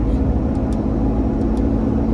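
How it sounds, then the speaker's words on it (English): Jeep Wrangler JKU engine pulling steadily with a throttle controller turned up, a loud continuous low drone and road rumble heard from inside the cabin. "It's almost like I'm accelerating just by pressing the button"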